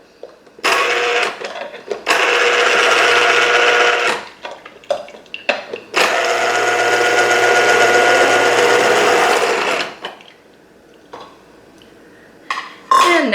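A Cuisinart citrus juicer's motor spins its reamer in loud bursts, a whirring grind with rattling plastic and pulp noise, stopping and restarting with brief clicks and knocks between runs.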